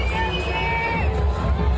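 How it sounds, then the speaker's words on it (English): Crowd at the Super Bowl cheers for Trump's arrival, a sustained roar of voices with whoops and babble rising over a low rumble, fairly loud and continuous. "People are cheering for him."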